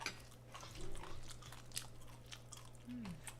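Crunchy food is chewed close up, faint and quiet, with a scattering of irregular crisp bites and crunches against low background hum.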